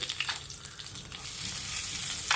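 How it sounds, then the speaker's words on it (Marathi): Cumin, asafoetida and red chili crackling in hot oil, a close continuous frying hiss with bright bursts of spattering near the start and end. "तेल तापलेलं आहे मी ह्याच्यात जिरं घालते हिंग घातला"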